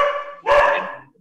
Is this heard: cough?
no